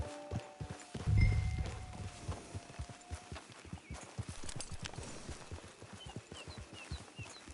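A horse in Red Dead Redemption 2 walks at an easy, steady clip-clop, hooves thudding in a regular rhythm close by and fairly quiet, with a brief louder thump early on and faint game ambience behind.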